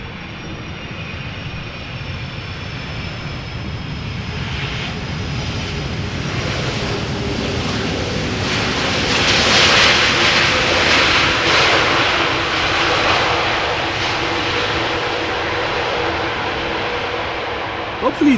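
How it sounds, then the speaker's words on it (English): A KLM Airbus A330 landing at Amsterdam Schiphol Airport in showery weather, its jet engine roar loud and continuous as it swells to a peak midway and then eases off slightly. "Now, in theory, these things can be loud, the A330s."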